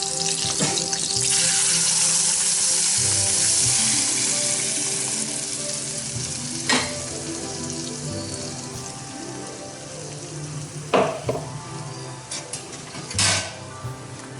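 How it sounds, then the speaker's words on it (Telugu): Garlic and tomato puree sizzle loudly in a pan for momos. The hiss fades to a gentler bubbling fry, broken by a few clinks of a utensil against the pan. "గార్లిక్ వేసుకొని లైట్గా ఫ్రై అయ్యాక మనం ప్రిపేర్ చేసుకున్న ప్యూరీ దీంట్లో పోసుకోవాలి"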